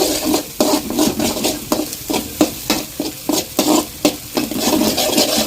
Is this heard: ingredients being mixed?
yes